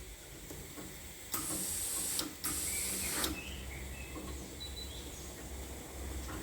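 A sewing machine stitches a cuff seam in two short bursts of rapid, fairly loud mechanical whirring with a brief pause between them, followed by quieter background hum.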